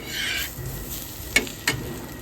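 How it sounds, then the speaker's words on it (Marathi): Dry grated coconut roasting in a pan for a Malvani-style crab curry, a soft continuous scraping rustle from stirring, with two sharper clacks of the spatula against the pan near the end. "याच्यावरती हे जे आपलं सुकं खोबरं आहे हे भाजून घेतो"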